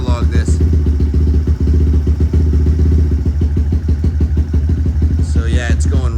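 A big bore Honda Grom motorcycle engine idles steadily and close by, running lean as it settles down, with a continuous low chugging throb and light mechanical clatter throughout.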